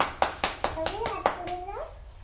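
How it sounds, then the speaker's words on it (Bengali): Children clap their hands at home in about six steady, evenly spaced claps, close and crisp, while a voice talks over the later claps. "হাততালি দাও।"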